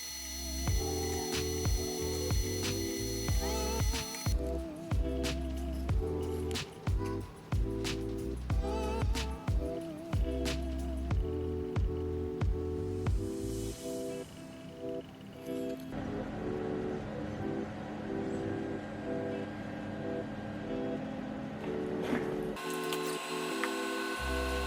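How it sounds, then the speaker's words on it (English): A Sculpfun S6 laser engraver cutting 3 mm beech wood, with whirring, stepping motor tones and rhythmic clicks from the moving head, shifting pattern partway through; fairly faint and steady. "The S6 Pro did a good job at cutting the denser 3 mm beech wood, but the S6 struggled a lot cutting it."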